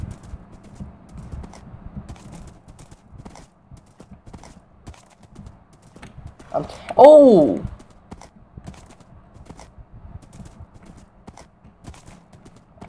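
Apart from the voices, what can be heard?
horse hooves in Minecraft video game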